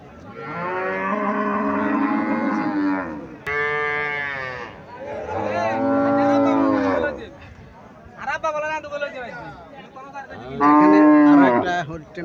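An improved-breed Indian Haryana cow, kept with a Haryana bull and calf, gives several long, loud, close moos that rise and fall in pitch, with a short gap of other noise and voices between the calls.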